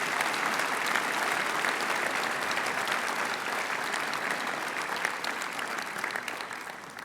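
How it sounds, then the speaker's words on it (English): Sustained, dense applause from a large audience at a school senior prizegiving for the prefects, filling the space evenly for several seconds and fading slightly at the end. "So give all those prefects for 2020 a big round of applause"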